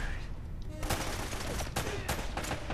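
Gunfire cracks in the Uncharted action game, a quick run of sharp shots over a busy game background, with a voice faintly underneath.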